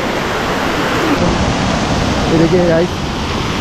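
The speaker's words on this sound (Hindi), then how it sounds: "ये है महाराष्ट्र का दूधसागर वाटरफॉल।" Andharban waterfall in Maharashtra's Kundalika Valley, called Dudhsagar, roars as a steady broadband rush of falling water, close and loud, with someone speaking briefly over it.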